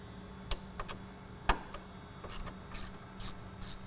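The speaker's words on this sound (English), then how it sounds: "Remove the screw securing down the scoop on the fender." Ratchet turning out the screw that holds the fender scoop on a Jeep Wrangler or Gladiator, sparse close clicks followed by a run of quicker ratcheting ticks, with no speech.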